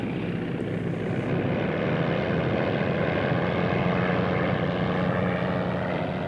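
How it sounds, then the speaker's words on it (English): An 800-horsepower air racer's piston engine runs steadily as the plane taxis, a loud continuous propeller drone with no talk over it. "Its 800 horsepower engine is fired up."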